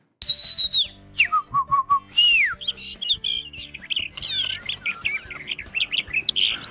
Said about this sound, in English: What's the little bird saying, Anthony?